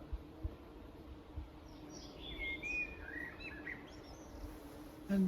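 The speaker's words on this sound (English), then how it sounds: "And the bird is singing." A bird sings a faint, thin warbling phrase over a quiet outdoor background, with no voices.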